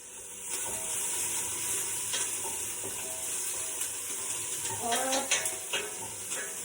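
Onions frying and browning in oil in a pot for an autumn squash soup, a steady soft sizzle with occasional stirring scrapes and clinks, close and moderate, no voices.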